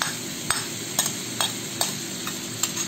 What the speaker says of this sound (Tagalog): Gisayin natin ito ng 2 minuto